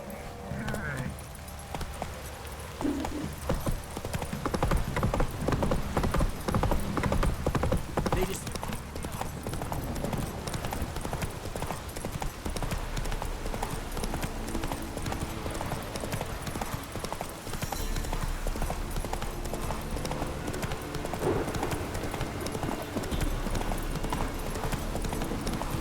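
In The Witcher 3: Wild Hunt, a horse's hooves clip-clop in a steady, close rhythm throughout, with a voice calling out and game sounds around them.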